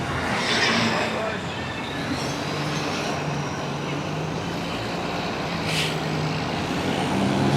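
A bus rolls past on a city street in Alanya, Türkiye at dusk, a loud steady engine rumble with a brief hiss, set within continuous traffic noise and a busy street.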